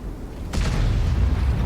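A sudden deep boom of artillery fire from a tank video game, followed by a rumbling low roar that lingers under steady background noise.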